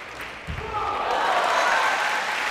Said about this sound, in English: Match point, ladies and gentlemen, applauded by the audience in Korea